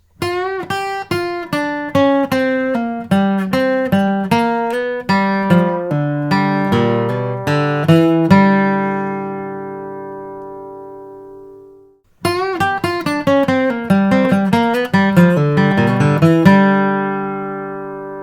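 An acoustic guitar picks a quick G pentatonic bluegrass lick, crisp plucked notes ringing out, pausing on a sustained chord before the run repeats.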